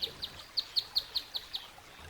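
A bird calls outdoors in mountain country, a run of about eight quick, high chirps in steady rhythm, near and clear over a quiet backdrop, with no voices.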